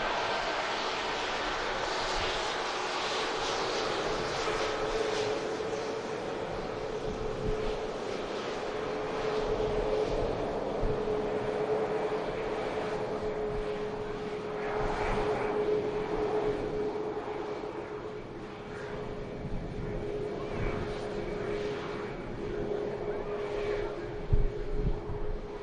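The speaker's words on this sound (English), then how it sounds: "Nice quick taxi speed there," An airplane taxis at Manchester Airport in strong winds, its engines giving a steady, sustained whine and roar at a moderate distance for the whole stretch. Wind noise runs underneath, and a commentator's voice comes in now and then.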